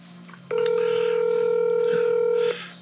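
A single steady telephone tone sounds for about two seconds, loud and close, then cuts off, with faint room noise around it.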